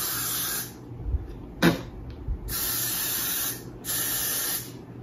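Hair spray hisses from a can in three bursts, with quick pauses between them, loud and close, the middle burst short and the others lasting about a second.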